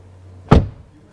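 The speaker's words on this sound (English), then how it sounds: "I will close the door." The door of a new 2026 Mercedes GLC SUV shuts once with a single solid, close thud. No one speaks, and only a faint low hum fills the quiet before and after.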